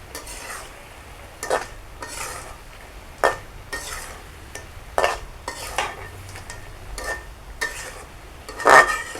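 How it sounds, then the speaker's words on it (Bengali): Fish pieces being gently stirred and coated with masala in a pan, a series of roughly a dozen distinct scraping and clinking strokes at irregular intervals over a soft sizzle, close and clear, no voices. "মাছটা দিয়ে একটু মশলাটা কষিয়ে নেব মাছের সাথে, সব মাছের মধ্যে যেন ঢুকে যায় এইভাবে।"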